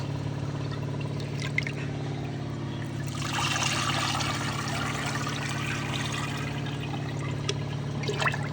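Plain water being poured to thin a thick organic liquid fertilizer for vegetable plants, a steady splashing pour that swells louder midway and carries on alone without talk.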